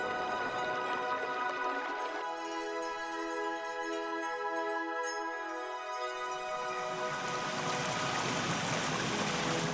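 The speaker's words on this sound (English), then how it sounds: "the river gently trickles down the mythical Tholt y Wyl Glen" River trickling through Tholt y Wyl Glen on the Isle of Man under tall pines, a steady broadband rush of flowing water, with tonal music layered over it throughout.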